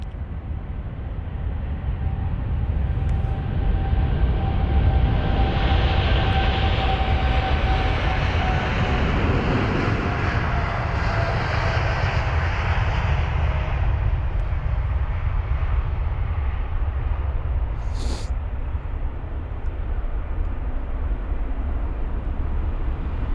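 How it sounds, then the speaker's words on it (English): A Vietnam Airlines Boeing 787-9 Dreamliner departs London Heathrow, its engines rising to a loud, steady roar that builds and swells over several seconds before slowly fading with the climb-out, heard alone without talk. "This Boeing 7879 Dreamliner Vietnam Airlines with the reg Victor November Alpha 862."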